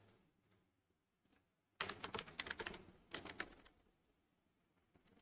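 Fast typing on a computer keyboard, two dense bursts of clicky keystrokes, close and crisp, separated by a brief pause, with quieter taps before and after.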